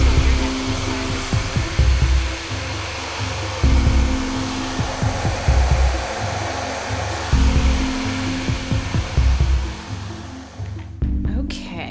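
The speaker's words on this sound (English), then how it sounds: "So I just used a diffuser to help dry your hair a little bit." Hair dryer fitted with a diffuser drying natural curly hair, a loud steady blowing roar with rhythmic pulses as it moves, cutting out briefly near the end, with some talk mixed in.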